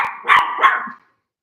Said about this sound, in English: Why is he barking at me